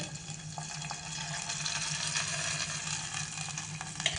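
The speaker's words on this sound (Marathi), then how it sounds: "भांड्यात पाणी घालते आहे" Water splashes and trickles steadily into a cooking pot of sambar, a continuous bright pouring hiss over a faint low hum, with no voices.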